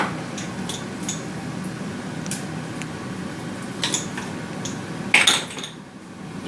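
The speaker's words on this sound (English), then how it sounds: "Give that a good mix." A utensil stirs herbs around in a dish, making scattered clinks and scraping taps against the bowl with a sharper clatter near the end.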